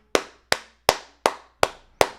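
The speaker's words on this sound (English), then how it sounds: "kind of a weak clap" A single person claps six times alone, sharp isolated hand claps spaced evenly about every third of a second, close and clear with a quick decay after each.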